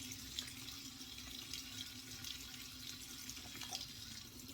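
Water runs steadily from a tap into a sink, a faint, even rush without pause or nearby talk.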